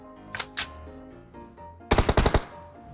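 Gunfire in PUBG Mobile: two isolated sharp shots, then a quick rapid burst of about six loud automatic rounds, over quiet game background.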